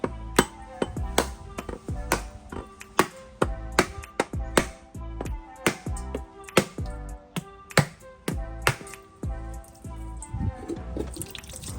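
A hard tool taps repeatedly against a not fully mature coconut's shell to crack it open for baking, making a long run of sharp, close, hollow knocks at an uneven, fairly quick pace with no voices.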